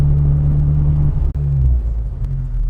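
A turbocharged car engine heard from inside while driving gently, a loud steady low rumble with a brief dip midway.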